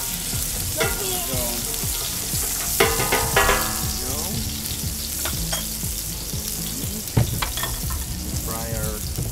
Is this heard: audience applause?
no